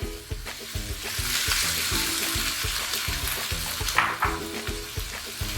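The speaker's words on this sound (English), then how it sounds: "Now we can add in some soya milk." Soya milk hits a sizzling pan for a vegetarian shepherd's pie, with a loud continuous frying hiss over a rhythmic clatter of stirring and a brief watery splash.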